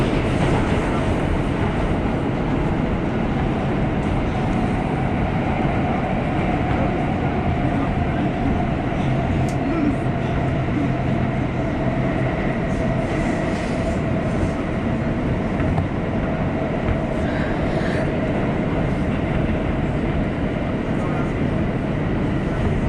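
An F express subway train on the IND Culver Line runs fast toward Coney Island, a loud continuous rumble and rattle with a steady squealing tone throughout.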